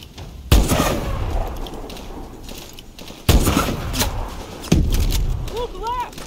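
Gunfire rings out in a Call of Duty battle: three sharp, loud shots spaced a few seconds apart, each trailing into a rumbling echo, with a steady din of battlefield noise beneath and brief whistling effects near the end.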